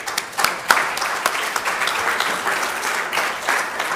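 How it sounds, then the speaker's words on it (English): A conference audience claps steadily for several seconds, a dense wash of many hands with a few sharper individual claps standing out near the start. "An applause, please."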